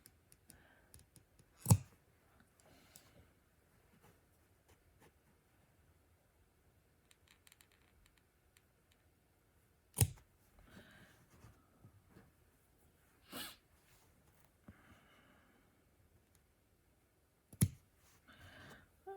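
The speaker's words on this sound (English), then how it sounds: "I have a little pair of scissors that works better for this little stuff" A few sharp, isolated snips of small scissors cutting flower stems, spaced several seconds apart, close and crisp, with faint rustling and handling noises in between.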